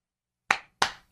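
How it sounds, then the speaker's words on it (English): Two sharp hand claps, sounding alone against silence with a short gap between them. "Oh, he's gonna clap it. And the lights come on."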